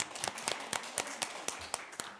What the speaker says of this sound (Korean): 박수로 마치겠습니다